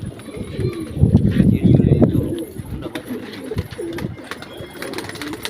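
Pigeon chicks being given medicine make soft cooing and bird calls close by, mixed with handling noises and people talking.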